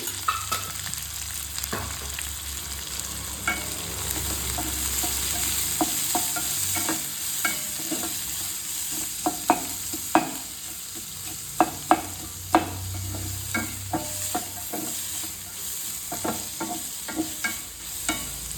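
Garlic and turmeric powder fry in a pan with a constant close sizzle, while a spatula stirs and scrapes with repeated sharp clicks.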